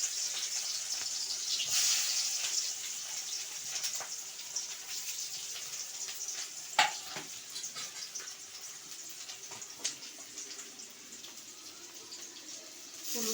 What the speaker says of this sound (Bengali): কড়াইয়ে সর্ষের তেল দিয়ে দিয়েছি, তেল গরম হয়ে গেছে। এবার আমি পেঁয়াজটা দিয়ে দেব।